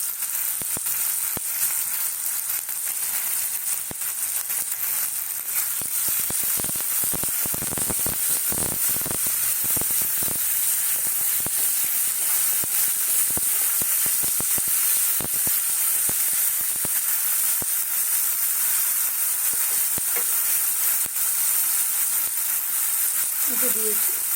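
Tomato, onion and spices fry in a pan for aloo dum, giving a steady, close broadband sizzle and hiss that runs unbroken throughout, with brief bursts of stirring clatter partway through.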